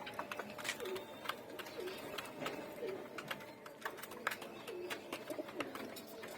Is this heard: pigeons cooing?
yes